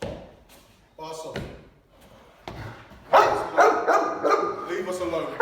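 A Cane Corso barks in short, loud bursts during protection training on stairs, the deep barks growing denser and closer toward the end, with people talking in between.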